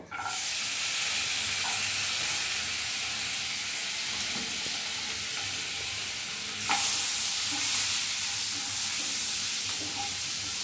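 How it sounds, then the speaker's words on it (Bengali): Garlic fries in melted butter in a pan for red sauce pasta, making a steady, bright sizzle with occasional stirs and a brief louder burst partway through. "এই যে মাখনের মধ্যে রসুনটা দিয়ে একটু ভাজা ভাজা করলে রসুনের একটা খুব সুন্দর গন্ধ আসে।"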